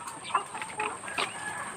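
Laying hens cluck softly in a poultry coop, several short murmuring clucks close by over a steady background hum, with no voices.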